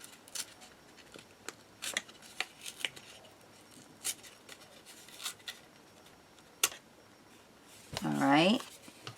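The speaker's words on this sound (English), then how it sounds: "let's take and rip the edge of this" Paper edge torn by hand while making a bunny card, a short rising rip near the end after scattered light taps and rustles of handling, with speech around it.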